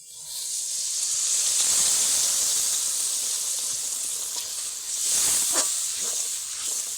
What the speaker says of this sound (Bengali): এবারে ওপর থেকে কিছুটা জল দিয়ে দেব মশলাটাকে ভালোভাবে কষানো হওয়ার জন্য